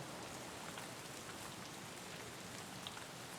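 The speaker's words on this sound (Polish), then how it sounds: "Pada deszcz." Steady rain pours down in the video game Escape from Tarkov, a dense, even hiss of drops on surfaces that holds without a break for the whole stretch, with no voices over it.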